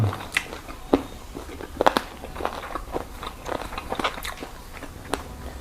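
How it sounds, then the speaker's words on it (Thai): Someone chews crunchy stir-fried pork cartilage with black pepper, with close, sharp crunches and bites repeating irregularly between softer mastication. "ต้องเคี้ยวสู้กับกระดูกหน่อย"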